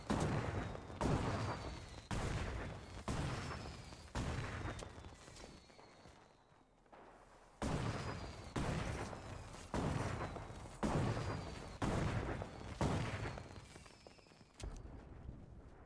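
Explosions from grenades in a shooter video game, a steady run of loud, sharp blasts repeating about once a second for most of the stretch, with a brief lull partway through.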